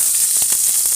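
Small shallots fry in hot oil with mustard seeds in a pan, giving a close, steady hissing sizzle with a few soft crackles across one second.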